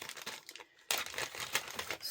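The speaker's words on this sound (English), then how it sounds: "inside we have a plastic bag here with a variety of tools and things" A plastic bag of small tools crinkles and rustles up close in a few quick handling bursts, with a short pause before a louder crackle.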